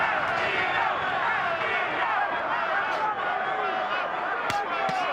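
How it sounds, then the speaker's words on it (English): A large crowd at a 12-round championship boxing match at the MGM Grand fills the arena with a steady, dense roar of voices, rhythmic chanting faintly audible throughout with occasional sharp thuds. "Crowd is chanting, Castillo, Castillo."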